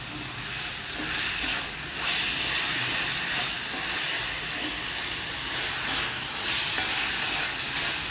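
Sausages coated with salt and pepper fry in a pan, giving a steady, close sizzle and hiss with occasional stirring scrapes throughout, no talking.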